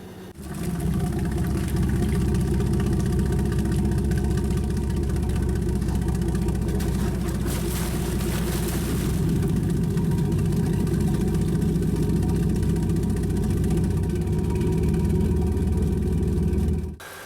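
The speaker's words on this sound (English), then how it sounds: "These engines are very smooth and quiet, and there is not the smell of diesel exhaust." A non-diesel boat engine with a 4-inch cylinder bore runs steadily with a smooth, low, even rumble that holds constant from start to finish, close and fairly loud.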